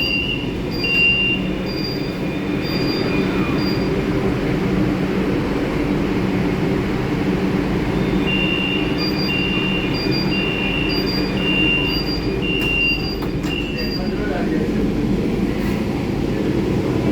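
A Kolkata Metro train runs between Sakher Bazar and Joka on the new Taratala–Joka line, its steady loud rolling rumble and rail hiss heard from inside the carriage, with faint high whines and clicks along the way.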